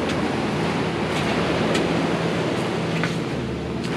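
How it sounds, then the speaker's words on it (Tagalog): Strong sea waves crash onto a shore in a continuous loud roaring wash, with faint breaker hiss and no talking. "Ayan, malakas yung alon mga katropa."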